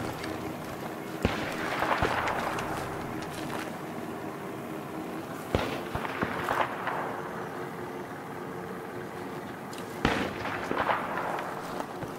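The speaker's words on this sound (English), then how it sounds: "Mortar shells coming to Eastern before we approach." Mortar shells impacting in Battlefield 3 on the Sharqi Peninsula map: three heavy, distant booms arrive several seconds apart, each with a rolling rumble, over a constant hum of battlefield ambience.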